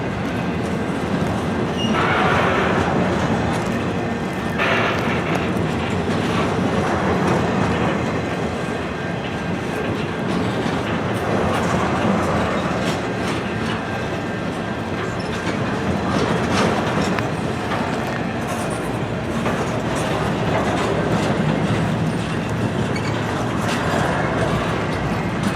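Norfolk Southern freight cars, some from Canadian National, roll steadily past nearby with a continuous rumble and rhythmic clickety-clack of wheels over rail joints, loud and sustained throughout with no talk.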